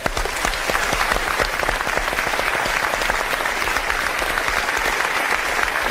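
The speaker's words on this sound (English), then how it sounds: "Give him a round of applause." Live television studio audience applauds for a guest on a paranormal show, a loud, dense, continuous burst of clapping from many people throughout.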